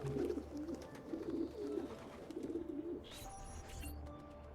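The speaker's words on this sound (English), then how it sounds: "Oh, the chicken coop. Pigeon coop." Pigeons coo in soft, repeated low burbling phrases at a pigeon coop in Assassin's Creed II, steady and fairly close, with a brief brighter chirp near the end and no talking.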